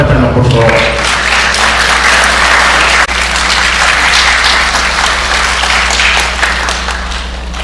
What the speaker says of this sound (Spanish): vamos a despedirlo con fuerte aplauso